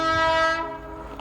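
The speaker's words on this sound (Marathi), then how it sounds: "ट्रेन येते फायनली. 22119 तेजस एक्सप्रेस." The 22119 Tejas Express passenger train on the Konkan Railway sounds a loud, sustained horn as it passes, the blast fading after about half a second into rumbling rail noise.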